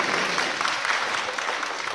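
An audience at a pipa lecture breaks into steady, full applause, a dense, even wash of clapping from many hands throughout, with no talking.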